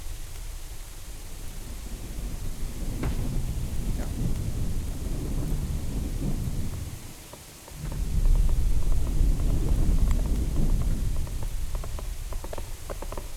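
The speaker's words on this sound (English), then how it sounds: "It's raining again? Really?" Constant hissing rain with deep rolling thunder in the video game Rise to Ruins, a broad steady wash that dips briefly and then swells louder, with no voices.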